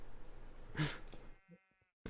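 A single close bleat from a sheep in the Minecraft video game rises above faint background game sound, and quiet game noises follow after it.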